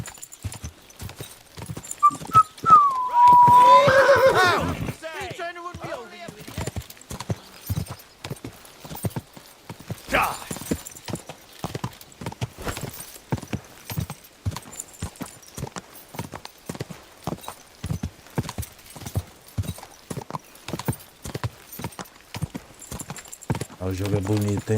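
Horse hooves clip-clopping steadily in Kingdom Come Deliverance 2 as a mount is ridden along, a brief whinny early on, with someone talking over much of it.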